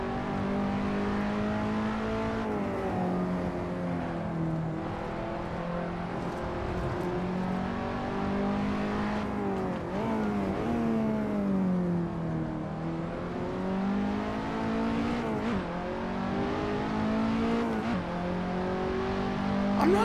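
Simulated KTM X-Bow race cars lap Laguna Seca in a racing game, engines rising and falling in pitch through repeated upshifts and corner braking, a continuous close-up revving drone with no talk.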